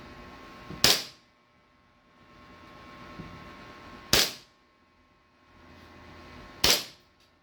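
A Staccato 2011-style pistol fires three single shots a few seconds apart, each a sharp, loud crack with a short decay, over a low room background.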